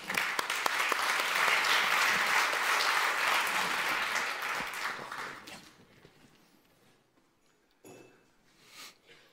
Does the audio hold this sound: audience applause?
yes